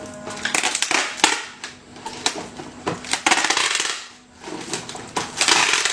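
Duct tape is wound around a bundle of used plastic bottles, giving a continuous crinkly ripping and crackling with sharp snapping bursts as the tape unrolls, up close with a short lull partway through.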